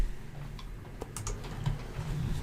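Computer keyboard keys are pressed while working in Photoshop, a few soft, close clicks spread over a quiet room hum.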